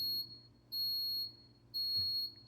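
A control-panel alarm in the roller coaster simulator No Limits 2 sounds three loud, high electronic beeps, each about half a second long, repeating at an even pace over a quiet background.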